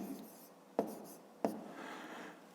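Pen or pencil scratching out numbers by hand on paper during a long multiplication exercise, two sharp taps and short faint strokes, close and quiet, with no voice.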